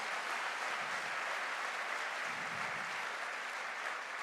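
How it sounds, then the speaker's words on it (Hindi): Steady audience applause fills a celebration hall at a promotion event, a dense, even patter of many hands clapping throughout with no pauses and no talking over it. "ताली तो बनती है भाई आज मेरी बीवी के लिए"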